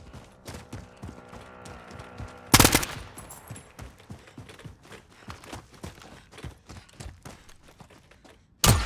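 Video game gunfire on a mountain battlefield: rapid bursts of shots and scattered single cracks keep going throughout, with a few louder close blasts standing out over the steady clatter.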